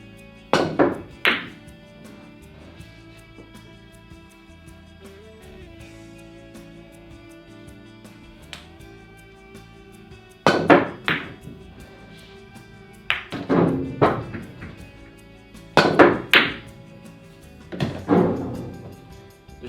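Pool balls and cue clacking on a billiard table: sharp knocks arrive in clusters, a few early, then a run of loud paired clicks and thuds in the second half, with quieter room tone and faint background music between them.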